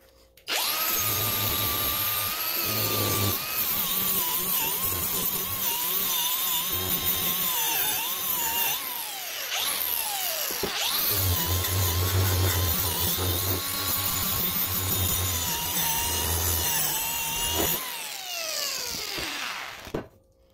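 A cordless battery angle grinder whines at high speed from close by, dipping briefly midway, then spins down near the end as its brake brings the disc to a stop.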